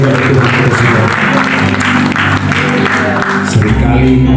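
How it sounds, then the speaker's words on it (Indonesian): A church congregation at a prayer and fasting service on Gunung Salak, Bogor, claps loudly in sustained applause that fills the space, with voices mixed in beneath the clapping. "Berikan tepuk tangan yang mulia bagi Tuhan kita semua."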